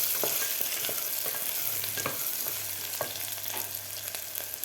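Whole spices stir-fried in a pan of masala for cashew and green pea pulao give a close, steady sizzle, broken by repeated sharp scrapes and clicks of a spoon stirring at irregular intervals.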